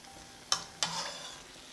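Trinidad-style eggplant fritters (baiganee) fry in hot oil, with two quick stirring scrapes over a soft, steady sizzle at close range.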